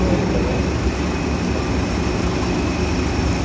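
A Maruti Suzuki Alto 800 car engine running after a service, a steady low rumbling drone with a constant hum that stays loud and close with no variation.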